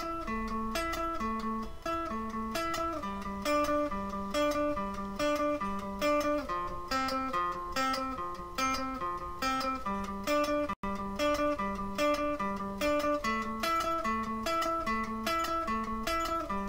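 Guitar picks a steady run of single notes across the strings in a string-changing practice exercise, even and rhythmic throughout with one brief break near the end.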